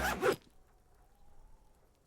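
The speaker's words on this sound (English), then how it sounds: "Sudden ringing fills the air as the lieutenant pulls down the zipper of his orange jacket." A zipper on an orange jacket is pulled down in the Disco Elysium video game, one quick loud rasping zip at the start, then a faint lingering ringing tone in near silence.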